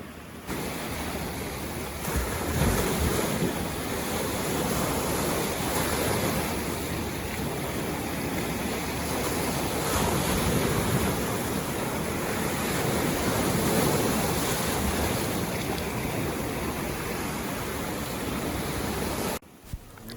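Mediterranean Sea at dawn below mountains, with steady breaking waves and wind washing continuously and loudly close by, a dense unbroken roar of surf with no voices.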